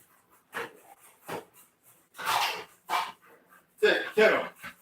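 American Bully dogs near a kennel give several loud barks and whimpers in uneven bursts, close by, with a voice talking in between.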